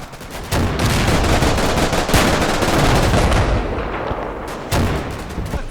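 Panzer IV tank gunfire in the Combat Mission Final Blitzkrieg war game, loud booming shots layered over continuous rattling battle noise, with a fresh blast near the end.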